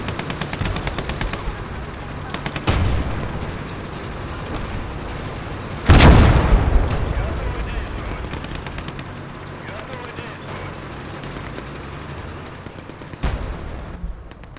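Tank guns and a machine gun fire during a battle in the video game Gates of Hell: Red Star Rising, with rapid bursts, one heavy boom near the middle, a few more sharp shots and voices talking over the combat.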